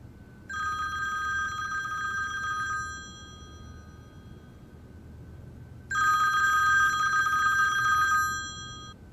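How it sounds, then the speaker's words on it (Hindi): A telephone bell rings in two bursts separated by a pause, loud and close, with no talking. "हाँ मोहिब, शुक्र है तुमने फोन तो उठाया। कब से फोन कर रहा हूँ तुमको, मैं तो घबरा गया था यार।"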